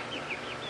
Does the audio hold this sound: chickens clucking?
yes